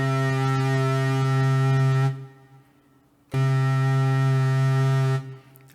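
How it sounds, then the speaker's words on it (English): A Roland GR20 guitar synthesizer plays two sustained, shimmering notes with a chorus effect. Each tone rings clearly on its own with a brief silence between them. "I can add chorus."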